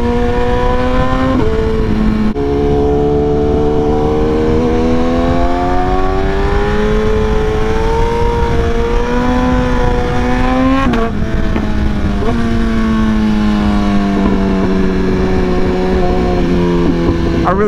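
A motorcycle engine revs loudly and continuously on a New York City street, its pitch rising and falling through gear changes, with a sharp break around the middle; a voice speaks briefly underneath.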